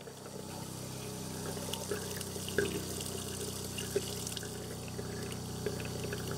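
A cold water faucet in an Airstream travel trailer bathroom runs pink antifreeze, making a steady trickling, splashing stream with a few soft drips, moderately close and without voices.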